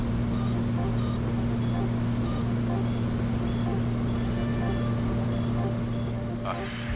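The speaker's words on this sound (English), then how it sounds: "The beeping noise you can hear is my undercarriage warning alarm." A light aircraft's undercarriage warning alarm beeps in a steady repeating pattern of short double tones, heard over a loud constant engine drone in the cockpit.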